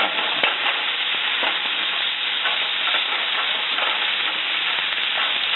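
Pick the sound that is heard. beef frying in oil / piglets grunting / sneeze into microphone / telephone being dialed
beef frying in oil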